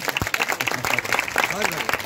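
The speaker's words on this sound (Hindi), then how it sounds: "इनके लिए जोरदार तालियां क्यों नहीं बजाते हैं" Applause at a community gathering, moderately loud and choppy, with voices talking and calling out over the clapping throughout.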